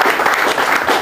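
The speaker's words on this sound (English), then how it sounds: "please give him a very warm round of applause" Steady, dense clapping from an audience at a farewell gathering, close and loud throughout a single second.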